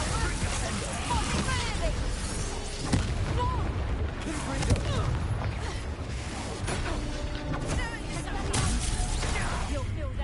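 Confringo spell explosions in Hogwarts Legacy, dull booms and crackling magical blasts mixed with creaking, clattering combat effects throughout, with voices shouting over the steady fight noise.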